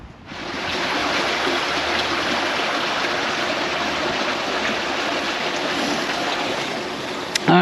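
A brook flows in a steady, close rushing babble, a constant broadband water wash that lasts the whole stretch without talk over it.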